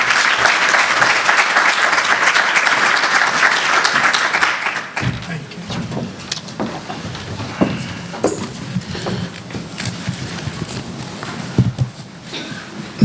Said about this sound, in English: Ladies and gentlemen, please help me welcome Dr.